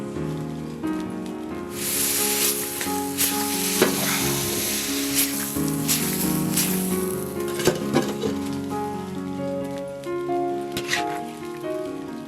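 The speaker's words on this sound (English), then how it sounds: "Chive and some parsley, saute it up, and we're done." Chive and parsley sautéing in a pan, a steady close sizzle with bright crackling spatters and occasional stirring scrapes throughout, with no talking.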